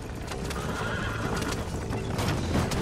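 Horses in the video game Red Dead neigh over a busy clip-clop of galloping hooves, close and continuous through the short stretch.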